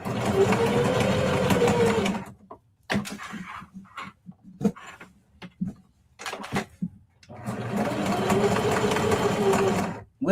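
Home sewing machine stitching fabric for a small sachet deodorizer bag, a steady fast mechanical whirring run that stops, gives way to scattered clicks and handling knocks, then starts up again and runs on.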